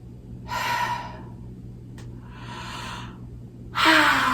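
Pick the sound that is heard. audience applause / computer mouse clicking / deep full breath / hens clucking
deep full breath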